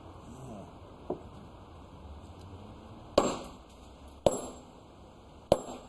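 Three sharp, ringing hammer blows on stone at a pit bank, widely spaced and fairly close, over a steady low outdoor background, with a fainter knock earlier.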